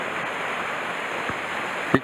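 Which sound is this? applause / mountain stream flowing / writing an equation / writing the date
mountain stream flowing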